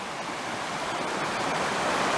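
Creek water rushing steadily down over granite rocks toward a gorge, a constant broadband wash of flowing water, close and loud, with no voices.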